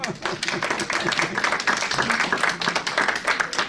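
An audience applauds at the opening ceremony of the 2018 Fins Goûteurs de Charolais chapter at CFAP de Marzy, with dense, steady clapping that runs the whole way through and faint voices mixed in.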